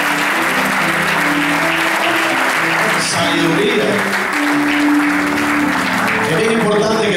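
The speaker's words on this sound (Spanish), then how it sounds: "Le damos un aplauso fuerte al Señor." Church congregation claps loudly in praise, a sustained dense round of applause that runs the whole time, with a voice speaking and some musical tones mixed underneath.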